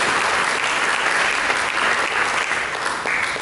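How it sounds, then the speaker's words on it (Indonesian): A church congregation bursts into sustained, lively applause, many hands clapping together in a dense, even roar that carries on without speech. "Mari kita berikan tepuk tangan."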